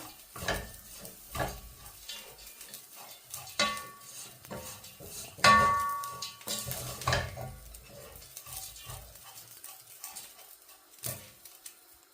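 Dried Maldive fish (maasi) being stirred and mixed into a Sri Lankan sambal, with scattered scraping and clinking strokes of a spoon against the bowl, near and moderately loud, with no one speaking.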